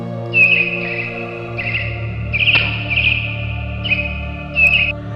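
Small birds chirp at dawn in short, bright bursts of tweets that repeat every second or so, set against a low steady drone.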